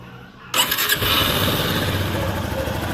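A Yamaha Fazer motorcycle with freshly repaired rocker arms and camshaft cranks and fires up, settling quickly into a steady, close, even idle with no talking.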